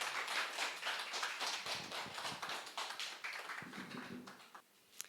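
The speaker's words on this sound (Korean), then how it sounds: "우리 나오실 때 뜨겁게 박수로 축복하며 맞이하겠습니다." A church congregation in Seoul claps warmly to welcome guests coming forward, a thick, continuous patter of hands that thins out and fades near the end.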